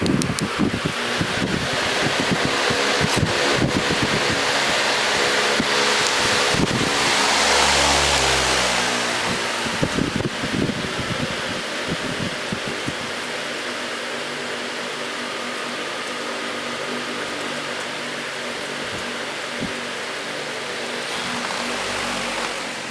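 A U220 Industrial electric fan with a 2.6 amp Macmillan motor starts up on high, a loud whooshing rush of air and motor hum that swells over the first seconds, then settles into a steady, even drone.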